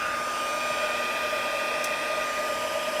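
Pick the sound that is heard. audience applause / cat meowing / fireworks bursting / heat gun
heat gun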